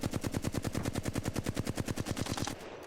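A weapon fitted with a 3x scope fires a fast, even burst of about twenty rounds in Apex Legends, each sharp crack close and loud, before the shooting cuts off abruptly.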